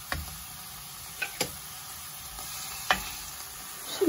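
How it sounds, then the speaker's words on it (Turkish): Onions and garlic in olive oil in a pot, a faint soft sizzle marked by a few sharp taps and scrapes of a utensil against the pot. "Önce soğanları ve sarımsakları zeytinyağına ilave ediyorum."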